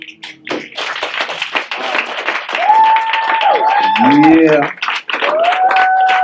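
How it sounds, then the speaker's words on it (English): At an open mic poetry night, an audience claps and snaps in a dense, sustained burst of applause, with a voice speaking over it partway through. "Thank you for the claps and snaps."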